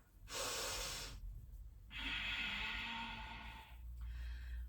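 Deep breathing held through a yoga pose: a long, airy inhale, a longer hissing exhale, then the start of another breath, close and clear in a quiet room.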